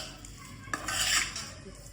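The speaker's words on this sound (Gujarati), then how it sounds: "ને બધું બરાબર મિક્સ કરી લેવાનું છે" A spoon scrapes and clinks through dry potato bhaji with coriander in a pan, one sharp knock followed by a brief burst of stirring over faint sizzling.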